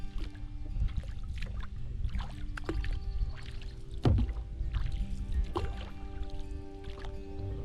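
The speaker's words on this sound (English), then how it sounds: "I was able to quickly paddle the 50-yard distance across the lake using only the Pikatti." Kayak on a lake paddled with a Gearlab Pikatti hand paddle: repeated watery strokes and splashes in a steady rhythm, close by, over constant outdoor background noise.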